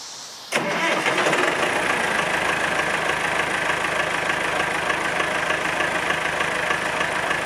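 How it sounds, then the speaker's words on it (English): A Perkins diesel engine cranks briefly and fires right up, then settles into a loud, steady rumbling idle that continues without letup, close by and alone. "That's that Perkins diesel. It fires right up."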